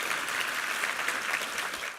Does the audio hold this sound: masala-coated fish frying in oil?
no